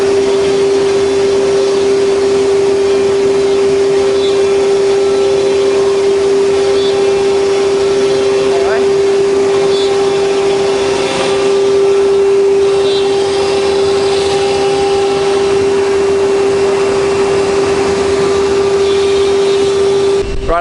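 Vacuum extraction on a drilling and cutting machine drones steadily and loudly throughout, a constant whine with a strong steady tone and no pauses.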